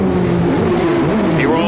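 Al Unser Jr.'s Indy race car on pit road at a CART race, a loud steady engine drone with shifting pitch under close commentary.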